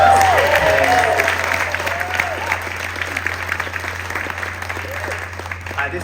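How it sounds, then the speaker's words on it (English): A concert audience at a musical theatre event bursts into loud applause that slowly fades over several seconds, with a few voices calling out on top. "Can we give that a round of applause?"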